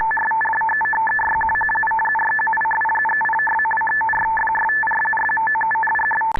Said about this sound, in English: This is some RTTY, which is a very fast Morse code.